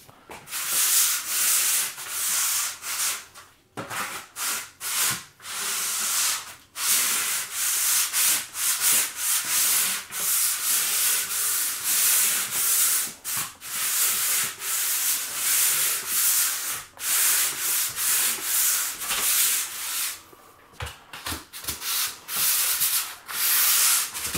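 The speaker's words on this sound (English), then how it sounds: "I'm just using a pole sander here." Steady abrasive rasping of a pole sander scraping across a popcorn ceiling, continuous with brief pauses as the sander is repositioned.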